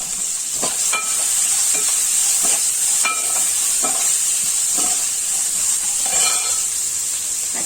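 Onions frying in a pan, a continuous bright sizzle close up with intermittent stirring scrapes and crackles, no talk.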